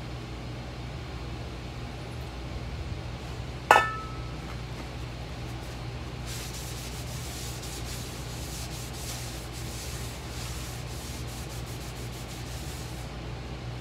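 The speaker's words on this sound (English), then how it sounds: "you'll need to make sure to hit them with 120 grit sandpaper on a random orbital sander or something like that, just to get a non-directional pattern" A random orbital sander with 120 grit sandpaper works on Toyota 4Runner front brake rotors, a steady droning hum with one sharp click and then a rougher rasping texture that builds in later.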